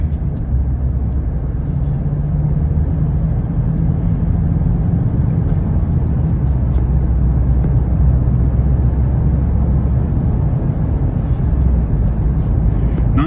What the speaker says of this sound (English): Nice easy acceleration.